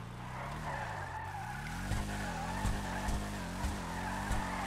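A car in a GTA game brakes hard with a sustained tire skid and squeal over a droning engine, steady and close, with a few small thumps as it slows.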